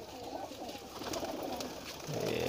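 Inside a loft cage, a group of pigeons keeps up overlapping throaty cooing at close range, growing a little louder toward the end.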